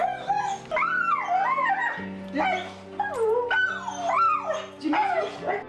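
A dog whines, yips and lets out rising, wavering howls close up, a long expressive run of vocalizing with brief pauses between phrases.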